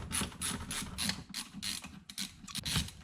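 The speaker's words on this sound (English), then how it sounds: "Then remove the last 3 screws in the motherboard." Screws being backed out of the motherboard of an APC SMT750 UPS, giving a run of close, rhythmic ratcheting clicks from the screwdriver that repeat in bursts for about three seconds with no talk.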